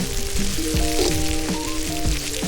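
Tomatoes sauté in a pan over an outdoor charcoal fire during a village cook-up with friends, giving a continuous close sizzle with soft crackles and faint tonal whines, and no talking.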